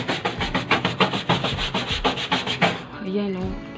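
A stiff brush scrubs soapy fabric in a fast, steady back-and-forth rhythm of about a dozen close strokes, then stops, leaving quieter room sound.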